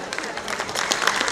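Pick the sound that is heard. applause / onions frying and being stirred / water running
applause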